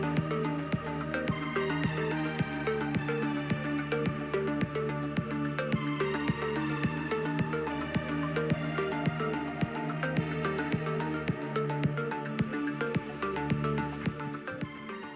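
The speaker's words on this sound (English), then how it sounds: "in the amusement park, the music sounds like this" Electronic background music from the amusement park level of the video game Ra Ra Boom, a steady looping synth tune with a regular beat, played alone at moderate volume.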